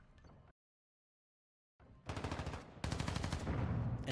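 Distraction grenades in the video game MW2 Beta go off like rapid gunfire, bursts of loud cracking shots after a short silence, growing denser and louder toward the end.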